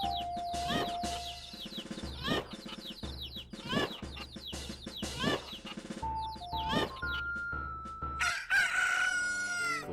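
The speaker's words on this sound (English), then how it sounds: "As you can see, they're turning into their prime as roosters." Roosters crowing in the video game Majora's Mask, a run of repeated cock-a-doodle-doo calls with clucks, rhythmic and fairly quiet, mixed with game music tones.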